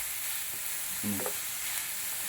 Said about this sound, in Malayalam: പച്ചമുളക് ചെറുതായിട്ട് അരിഞ്ഞത് ആഡ് ചെയ്യുന്നു കേട്ടോ. ഇളക്കി കൊടുക്കണം.